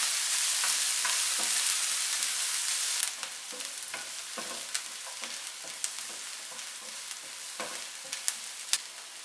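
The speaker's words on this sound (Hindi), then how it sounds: "अब इसी पैन में मैं डालूंगी 2 टेबलस्पून चॉप प्याज और 1 टीस्पून कुटा लहसुन।" Chopped onion and crushed garlic frying in a pan, a steady sizzle with scattered crackles and pops, loud and close, easing slightly after the first few seconds; no talking.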